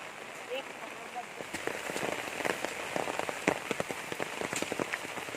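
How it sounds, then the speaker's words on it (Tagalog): Rain patters steadily on a surface outdoors on a farm, starting lighter and building into a dense, close spatter of drops, with no talk. "Ulan pa rin."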